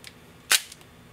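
An Ihagee Exakta VxIIb film camera's focal-plane shutter fires once at 1/125 second, giving a single short, crisp mechanical clack in a quiet room.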